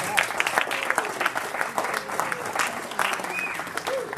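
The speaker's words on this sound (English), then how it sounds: "Let's have a big round of applause for Linda" A large round of applause at a Rotary club meeting, many hands clapping densely and steadily for about four seconds from a room full of people, with brief voices mixed in.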